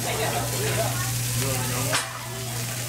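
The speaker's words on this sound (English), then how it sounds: "You guys finally get to see how fried rice is made." Fried rice sizzling steadily in a hot pan, a continuous bright hiss with a faint steady hum underneath and a brief scrape partway through.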